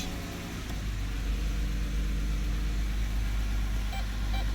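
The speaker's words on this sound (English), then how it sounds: "as you can see, it's beeping." A 2015 Dodge Grand Caravan R/T in reverse idles with a steady low engine hum, and a few short, faint electronic parking-sensor beeps sound near the end.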